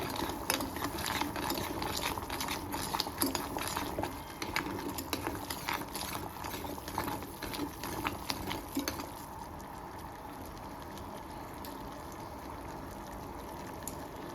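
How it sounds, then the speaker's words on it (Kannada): Sugar syrup tinted with saffron simmers at a boil in a pan for badusha sweets, a steady dense crackle of bubbling and popping that holds throughout, close and moderately loud with no voices. "ಈಗ ಅದು ಕುದೀತಾ ಇದೆ."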